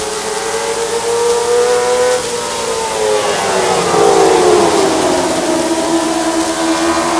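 Race cars roaring around a super short track, engines droning loud and steady with rising and falling pitch as cars pass close by.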